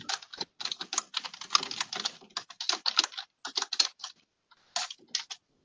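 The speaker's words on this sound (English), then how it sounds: "I'm getting some typing feedback." Someone types on a computer keyboard in quick, uneven bursts of clicking keystrokes with brief pauses, close and fairly quiet, with no talking.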